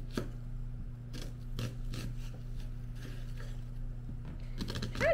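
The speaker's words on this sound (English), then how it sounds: "So I'm just gonna slice," A knife thinly slicing a red onion on a cutting board, giving soft, irregular taps and crunches spread across the moment over a low steady hum.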